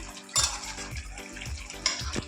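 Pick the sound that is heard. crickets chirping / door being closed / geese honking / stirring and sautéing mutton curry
stirring and sautéing mutton curry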